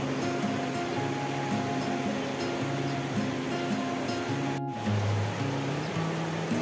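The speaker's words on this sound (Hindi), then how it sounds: "पानी जो है ना अपनी मौसीकी बिखेर रहा है यहाँ पे" Continuous rushing mountain river water flowing over rocks in Sharda, Neelum Valley, Azad Kashmir, steady and fairly loud with a brief dropout midway.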